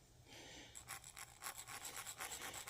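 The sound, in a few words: filing down a vintage gas pump casting with a screw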